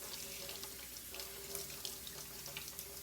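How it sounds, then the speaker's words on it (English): Running water from a kitchen sink tap pours steadily over food being rinsed, a continuous splashing hiss with small irregular spatters, close and fairly quiet throughout. "But I'm just going to rinse this off"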